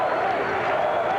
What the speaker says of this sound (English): Well, you hear the crowd.